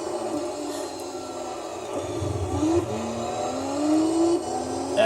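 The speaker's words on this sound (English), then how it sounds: "Yeah, this car's fast," Race car engine in the Gran Turismo 3 video game during the Rome two-hour endurance race, a steady droning whine rising in pitch through gear changes, continuous and fairly loud without talk.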